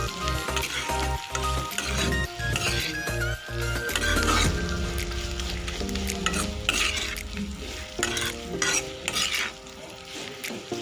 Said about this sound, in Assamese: ইয়াৰ গোটেইখিনি সেকি থোৱা কোমোৰা আমি ইয়াতে দি দিম আৰু ধুনীয়াকৈ লৰাই দিব এইখিনি